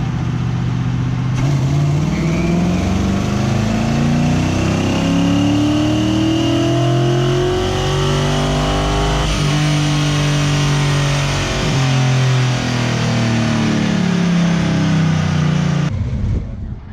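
On a dyno, an LS-swapped 1967 Mustang with AFR heads and a Crower cam roars through a long sustained pull, its loud engine note rising steadily for many seconds before cutting off abruptly.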